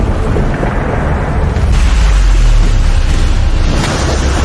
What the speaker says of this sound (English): the resulting explosion was large enough that the entire underground room was affected by the explosion